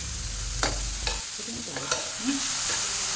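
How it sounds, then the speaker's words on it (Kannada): Onion frying in a pan for a home lunch, with a low sizzle under a few sharp spatula scrapes and taps spaced about half a second apart, close and fairly quiet. "ಒಂದು ದೊಡ್ಡ ಗಾತ್ರದ ಈರುಳ್ಳಿಯನ್ನು ಕೂಡ ಹಾಕಿ ಫ್ರೈ ಮಾಡ್ಕೊಳ್ಬೇಕು"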